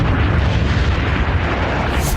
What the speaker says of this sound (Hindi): ईरान ने कुवैत एयरपोर्ट को निशाना बनाया और ड्रोन से हमला किया, जिसके बाद जोरदार विस्फोट हुआ और फ्यूल टैंकरों में आग लग गई